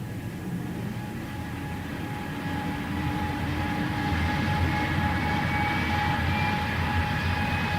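A jet aircraft engine hums steadily with tonal whines over a broad rumble, gradually growing slightly louder, staged as a sound effect of a plane pushing back from the stand in a radio drama.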